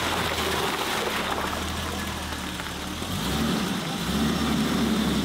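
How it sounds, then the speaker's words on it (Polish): A BMW Z1 engine runs steadily with a low, continuous mechanical hum and faint ticking, fairly close and unbroken, with a slight dip and recovery midway through. "Ale silnik bardzo ładnie cyka."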